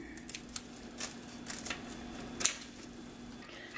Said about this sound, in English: we're just going to cut.